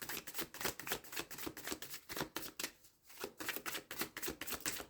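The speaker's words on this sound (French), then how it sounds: "Alors je vais aller tirer une carte sur les conflits." Cards from a deck riffle and flick in a rapid, dense series of crisp snaps, close and quiet, with a short pause in the middle before the rapid flicking resumes.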